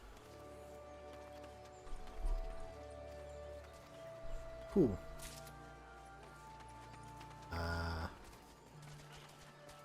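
Electric horse mount in Final Fantasy XIV, a few scattered hoof clops and a swooping effect over quiet game ambience, with a brief spoken word in between.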